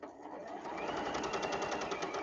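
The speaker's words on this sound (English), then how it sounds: "So back to the sewing machine, needle in that dot, press the foot down" A sewing machine runs steadily as it stitches from dot to dot, a fast, even mechanical whirr with rhythmic needle ticking, close and moderately quiet, without any talk.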